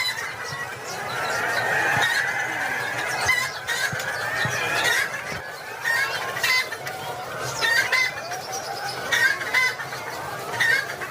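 Laying hens on a poultry farm cluck continuously in a dense, busy chorus, with a few squealing calls and a distant rooster crow rising above the steady flock noise.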